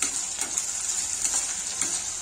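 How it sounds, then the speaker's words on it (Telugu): Onion, tomatoes and curry leaves frying in a pan while a spoon stirs them, a steady bright sizzle broken by a few scraping strokes, close and without talk. "Just mix well."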